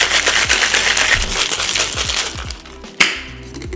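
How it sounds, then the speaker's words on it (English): Ice cubes rattle hard inside a cocktail shaker mixing a gin drink with egg white, a dense rapid clatter of sharp knocks that stops with one final crack. "Now add ice to the shaker and shake for about 10 to 15 seconds."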